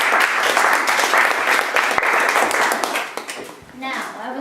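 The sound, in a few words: audience applause for student speeches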